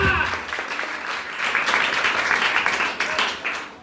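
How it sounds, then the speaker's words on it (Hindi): A congregation applauds at a village prayer meeting in Jalna, dense continuous clapping that swells slightly midway and holds steady, loud and close. "ताली मारो, हालेलुया।"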